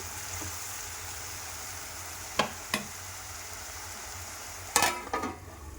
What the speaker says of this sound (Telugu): చూడండి, ముల్లంగి ముక్కలు ఇలా ఫ్రై కావాలి ఆయిల్లో